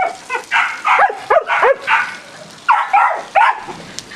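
Several puppies bark and yip in short, high bursts in a dog shelter's puppy room, close and loud, with brief whimpering squeaks between the barks.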